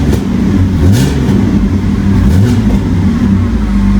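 A BMW E36 fitted with a full stainless-steel exhaust is revved a few times in quick succession, each rev rising and falling over a steady idle, loud and close with no talking.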